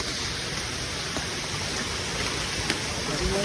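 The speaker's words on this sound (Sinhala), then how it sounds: "ඒක වහිනවා බං" Steady rain falls outdoors during a trip to a waterfall, making a constant, even hiss of close drops with no breaks across the few seconds.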